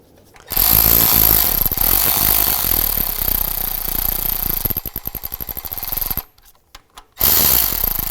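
A ratcheting tool spins loud and close while engine timing tensioner bolts are run in, with a continuous mechanical whir that breaks into a rapid clicking ratchet, a brief pause, then another whirring burst.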